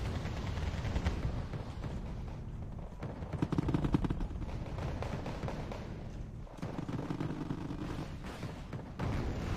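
A Su-25T attack jet strafing and rocketing a Vickers tank in Wargame: Red Dragon, heard as a continuous rumbling barrage of rapid cannon fire and explosions with a heavy burst near the middle, under distant battle noise.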